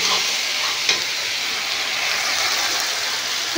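Masala for an egg and potato curry fries in oil in a pan, making a continuous bright, close sizzling hiss with one faint knock partway through.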